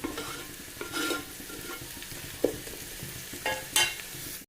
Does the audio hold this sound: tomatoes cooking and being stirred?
yes